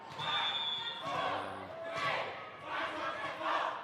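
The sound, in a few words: volleyball bounced with crowd chanting in sync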